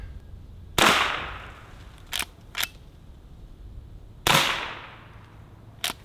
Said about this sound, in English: First up, we've got the Henry Golden Boy 22 long rifle.